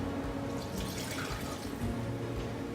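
A cup of water poured into the bottom of an Instant Pot for chicken bone broth, a steady close trickle and splash lasting a few seconds without speech.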